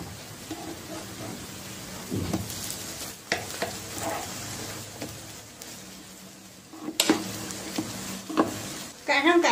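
Glutinous rice apple cakes fry over medium heat in a covered pan, with a soft continuous sizzle, clattering knocks as the lid is lifted and the cakes are flipped, then sharper sizzling bursts near the end.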